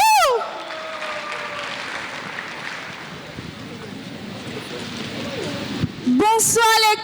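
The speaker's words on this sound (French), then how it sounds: "Applaudissez, applaudissez, applaudissez." An audience at a family gathering concert claps steadily for several seconds as a singer is welcomed, while an announcer calls out over the crowd at the start and end.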